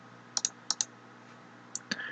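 A computer keyboard has Control-C and Control-V shortcuts pressed: a few quiet, sharp key clicks come in small clusters over a faint background hum.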